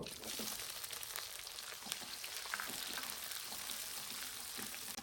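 Onions sizzle in hot mustard oil with cumin, a steady soft hiss of frying with faint crackles and occasional stirring clicks, fairly quiet and without speech.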